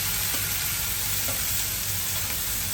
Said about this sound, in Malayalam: നമ്മൾ ഇടിച്ചു വെച്ച ഉള്ളിയും ഇൻഗ്രീഡിയൻസും നമ്മൾ ചീനച്ചട്ടിയിലേക്ക് ഇട്ട്